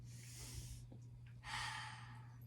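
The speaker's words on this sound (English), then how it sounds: "breathe in through your nose and breathe out through your mouth" A child doing dragon breaths, two long breathy exhales with a faint sniff between them, close and fairly quiet over a steady low hum.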